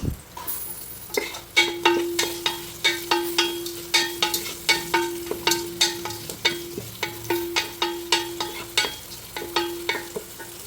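Two onions sautéing in coconut oil in a pan for a Kottayam-style kappa biryani, with a spoon or spatula scraping and stirring in a steady repeated rhythm over a soft sizzle, close and alone with no talk.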